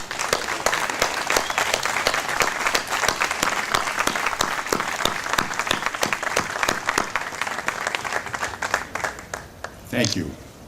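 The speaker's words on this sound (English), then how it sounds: "Graduates-to-be, would you join me in applauding those who have seen you through to this day?" Audience at a 2014 Morgan Park Academy commencement applauds the graduates' parents, a sustained room-filling clap that holds steady for about ten seconds before fading, with a brief voice near the end.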